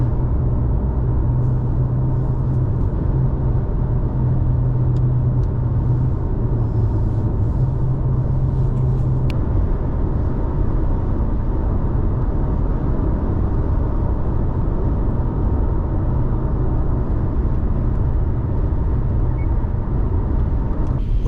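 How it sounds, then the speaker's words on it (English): A car drives along a highway through Arizona, giving a steady, loud road and engine rumble that carries on without a break throughout, with no voices heard. "We're still driving southeast in Arizona."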